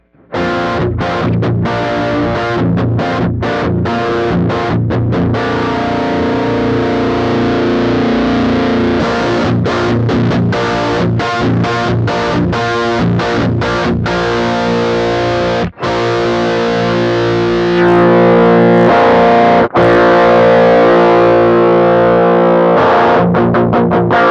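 A Master Effects Super Forty distortion pedal, voiced after a bassist's amp, drives a guitar with the mids boosted, giving a thick, saturated, loud tone as chords ring out steadily and break off with short stops.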